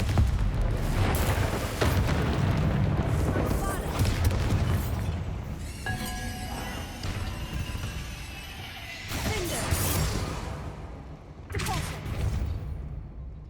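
Confringo fire-spell explosions in the game Hogwarts Legacy, several booming blasts and crashes with rumbling debris, layered over game music and brief speech.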